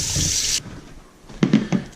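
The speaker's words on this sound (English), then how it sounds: "let's go ahead and clean up our celery with some cold water to get all that sand out of there" Cold tap water runs briefly into a kitchen sink as celery is rinsed of sand, a steady hiss that stops, followed by a few soft thuds and knocks of handling.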